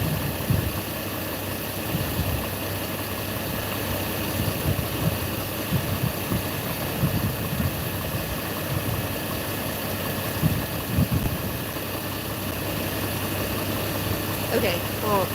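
A Chevrolet Trailblazer engine idles steadily with a rough, knocking hum, a throttle body suspected of not opening fully, close and continuous, with a person talking over it.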